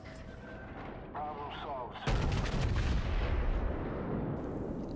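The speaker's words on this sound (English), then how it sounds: "Amagi is still shooting at me, and not having much luck landing good shots" The Amagi fires naval shells in World of Warships: a loud, booming salvo crashes in midway and rolls out, following a quieter stretch of ambient rumble and faint tonal sounds.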